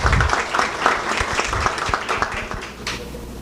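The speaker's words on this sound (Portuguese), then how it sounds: "Uma salva de palmas para ela lá." An audience at a 2016 election debate event in Itapevi gives a round of applause, many hands clapping loudly at first and then thinning toward the end.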